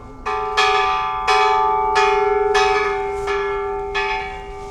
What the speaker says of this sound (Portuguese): Vou tocar o sino.